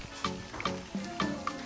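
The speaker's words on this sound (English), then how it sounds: "So we will start frying the chicken." Chicken pieces frying in a pan for Ghanaian jollof rice: soft sizzling with several sharp pops and spatters every few tenths of a second, fairly faint and close, with no talking.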